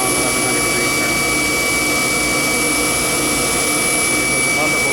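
A constant-temperature, variable-speed engine running at a mechanical facility makes a loud, steady jet-like roar with thin high whines, unbroken and close throughout.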